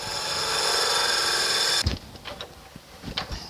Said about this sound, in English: I'm going to true up the end here and drill the hole.